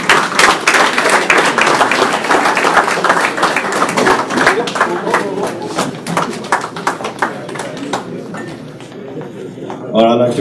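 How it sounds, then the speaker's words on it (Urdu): Close, loud hand clapping comes from a small gathering at a cricket coaching tour event in Sacramento, with sharp individual claps. The clapping thins out toward the end as voices and talk take over. "ایک دفعہ پھر زوردار تالیوں"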